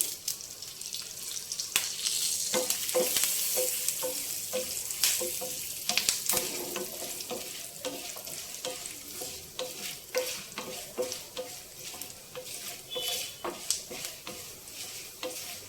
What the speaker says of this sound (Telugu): పోపు చక్కగా వేగిపోయిందండి.